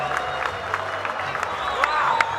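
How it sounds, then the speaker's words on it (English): A packed, standing-room crowd at the Doubletree claps steadily after a fight, a dense wash of applause with scattered cheers rising toward the end. "Everybody clapping inside the Doubletree"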